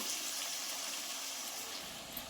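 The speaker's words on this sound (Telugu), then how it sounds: "అందుకని కొద్దిగా నీళ్ళు అనేది నేను పోస్తున్నాను." Water is poured into a pan of chicken curry cooking with fenugreek leaves, giving a soft, steady hiss and gush that runs continuously and fairly quietly, with no talking.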